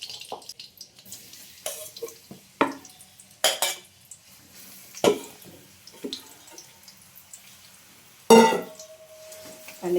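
Dates roasting in hot ghee over a low flame, stirred in a pan on a gas stove, giving scattered soft scrapes and clinks of the spoon against metal with quiet gaps between, close by and moderately loud, no talking.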